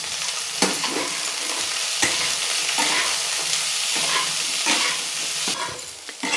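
Beans, cabbage, carrot and green peas fry in a pan, a loud continuous close sizzle broken by repeated scrapes and knocks of stirring.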